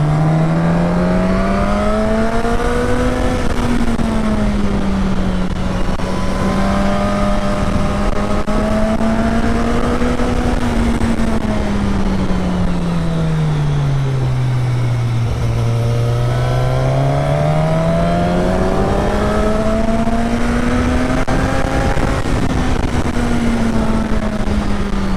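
A motorcycle engine drones continuously while riding along a road, its pitch rising and falling smoothly with throttle over a steady wind roar, loud and close with no talking.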